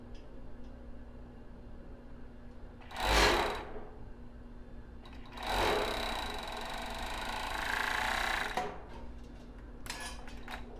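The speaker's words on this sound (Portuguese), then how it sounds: "Então, vou colocar aqui na minha overlock, costurar." An overlock serger stitching the seams of a lace thong, heard as two short bursts of rapid mechanical whirring followed by a longer steady run, close and fairly loud over a quiet room hum.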